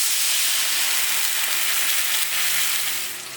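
Sauce poured into a hot pan of frying food during Japanese home cooking bursts into a loud, steady sizzle that holds evenly for several seconds, then eases off slightly at the end, with no voices.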